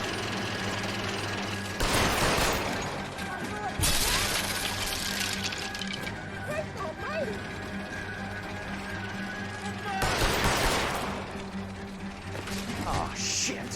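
In the video game L.A. Noire, gunfire is aimed at a fleeing driver: three sharp bursts of shots crack out, spaced several seconds apart, over a low mechanical engine hum.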